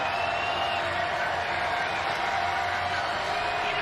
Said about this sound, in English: Crowd trying to turn up the volume knob here at Clarence T.C.